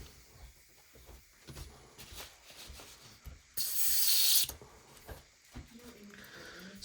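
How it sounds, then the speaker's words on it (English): An aerosol spray can, used during a British Touring Car Championship Audi race car build, gives one loud steady hiss lasting about a second, set among quieter workshop handling noises. "So it should spray. Yeah, sprays better now."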